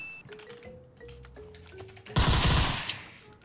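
Scorpion gun in a first-person shooter firing a rapid, loud burst of automatic shots near the end, after quieter tonal game sounds and scattered clicks.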